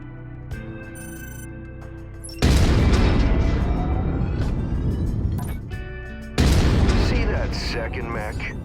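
Mech destruction in MechWarrior 5: Mercenaries, a heavy armored combat robot taken down by weapons fire: loud deep booming blasts hit twice, a big onset then a second burst, each decaying into rumbling debris and clatter amid mechanical game sounds.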